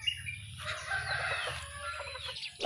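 Chickens cluck close by in a rhythmic low patter while a rooster's crow rises over them, with a brief scuffle near the end.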